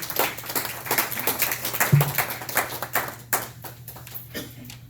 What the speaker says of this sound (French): Voilà, ça c'est M. Ngimbi Kalongo Ziko que nous voulons d'applaudir.